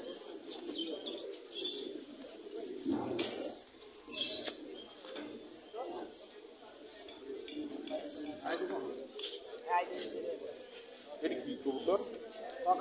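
Pigeons at a pigeon market in Mirpur 1 coo and flutter their wings in short bursts, with chirps among the busy crowd noise and people talking nearby throughout.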